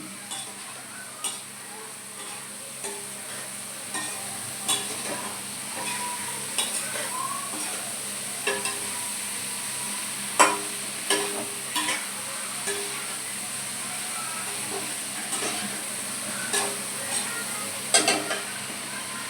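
Cluster beans (gwar phali) cook in roasted spice masala in a pan, with a steady soft sizzle broken by scattered clicks and scrapes of stirring, close and fairly quiet, no talk.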